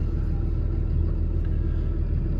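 Diesel engine of a 2016 Dodge 5500 flatbed rollback tow truck with manual transmission running at a steady idle, a loud, close, continuous low rumble with no talk.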